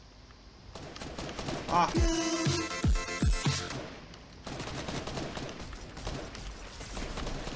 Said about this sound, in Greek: Κάποιος πυροβόλησε.